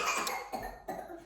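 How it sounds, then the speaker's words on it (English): A woman fakes a cough, giving several short, sharp bursts close to the microphone in quick succession. "fake coughing"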